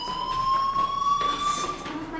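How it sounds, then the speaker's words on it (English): A fire alarm in the video game Life Is Strange rings as a steady, high electronic tone with sharp harmonics, holding continuously near and loud throughout. "do you hear that fire alarm? That means you should be outside."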